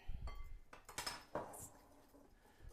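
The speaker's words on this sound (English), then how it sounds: "So I'm going to whisk it." Lemon juice and sugar whisked in a bowl for lemon cookies, heard as quiet scattered clinks and scrapes of a utensil against the bowl, with a few sharper taps at the start.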